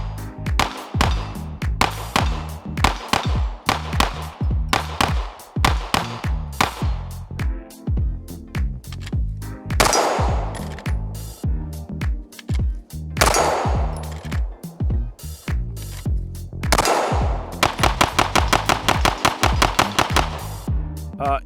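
A Glock 19 fitted with an Angled Spade Imperium 9C integrally compensated slide fires rapid strings of loud, sharp pistol shots outdoors, the bursts coming close together with brief pauses between strings.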